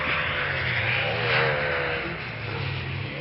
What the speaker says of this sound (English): a 2-litre engine in that GTM